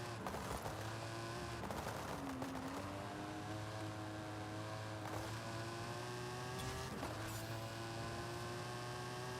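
A TVR sports car in Forza Horizon 5 drives with a steady engine drone whose pitch rises and falls through gear changes, heard close and continuous over a low hum.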